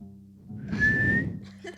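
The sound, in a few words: person whistling a wedding tune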